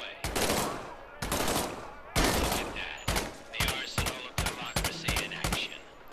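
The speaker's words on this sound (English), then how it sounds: "Reach over your shoulder and grab your M1A1 submachine gun." M1A1 submachine gun firing in the VR shooter Medal of Honor: Above and Beyond, loud close bursts of rapid automatic fire, several volleys in quick succession with short gaps between.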